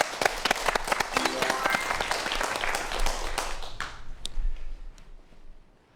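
Audience applause at a Korean science lecture: a room of people clapping densely and steadily, fading out over the last couple of seconds.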